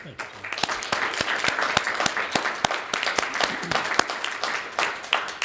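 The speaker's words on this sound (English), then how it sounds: "we applaud you" People in a city council chamber clap in congratulation, a moderate group applause with distinct, sharp individual claps standing out close by, some voices faintly mixed in.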